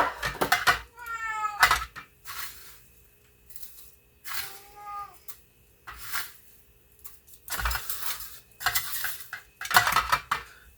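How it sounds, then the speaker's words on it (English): A utensil stirs cornflakes into a coating mixture in a bowl, making intermittent scraping and clinking bursts, while a cat meows twice nearby. "So I'm going to put a little bit of cornflake in this and give it a mix up."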